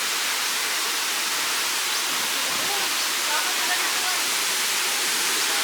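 A resort waterfall rushes steadily as a dense, even roar of falling water, close and unbroken for the whole stretch.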